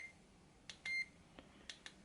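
A DAM TF fishing bite alarm gives several short electronic beeps while its volume is stepped through, the beeps quiet and spaced, one held slightly longer, heard alone.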